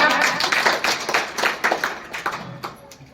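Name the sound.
applause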